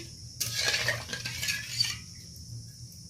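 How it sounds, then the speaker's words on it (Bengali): A spoon stirs sugar into mango chutney in a pan, a soft scraping and clinking burst lasting about a second and a half, faint and close, with no talking. "একটু নাড়িয়ে নিচ্ছি"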